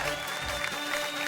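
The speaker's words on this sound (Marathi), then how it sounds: "टाळ्या टाळ्या टाळ्या." A studio audience at a Marathi television show applauds in a steady, dense burst of clapping, close and sustained for about a second.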